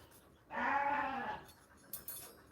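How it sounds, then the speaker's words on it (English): A single sheep in Ghana lets out one drawn-out, quavering bleat of about a second, fairly loud and close, followed by quiet outdoor background with a couple of faint knocks. "And the sheep got something to say."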